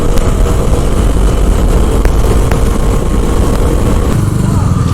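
Superbikes, among them a Suzuki Hayabusa, riding together on the road in Nellore: a loud, continuous roar of engines and wind rumble that holds steady throughout, with no one talking.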